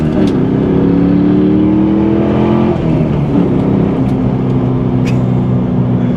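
A 2000 Pontiac Trans Am WS6 engine revs and accelerates hard, a loud, steady roar climbing in pitch, dipping briefly at a shift, then pulling again, heard from close by.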